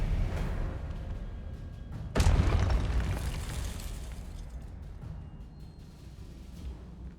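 A Confringo explosion spell going off in the Hogwarts Legacy video game, a sudden loud burst after a rumbling lead-in, then a long crackling, roaring decay that slowly settles back into the game's background noise, no talking.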